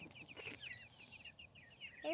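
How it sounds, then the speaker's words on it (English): Chickens on an off-grid homestead cluck and chirp in a steady scatter of short calls, fairly close, with a louder squawk at the end and no talking over them. "The rest of these are the chickens."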